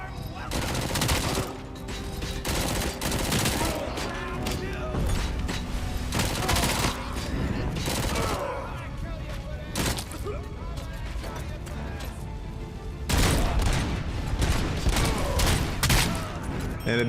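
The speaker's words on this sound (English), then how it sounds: "It's like an Uzi basically." Burst-firing Uzi-like gun in RoboCop Rogue City, repeated short loud volleys of rapid shots with impacts and mechanical clatter over game ambience, while a person talks throughout.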